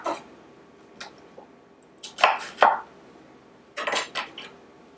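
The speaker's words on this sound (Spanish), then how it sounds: "Tenemos una cebolla mediana. La partimos a la mitad y nuevamente." A kitchen knife cuts through a medium onion on a board, giving a few separate crisp chops and thuds at uneven intervals, close by with no talking.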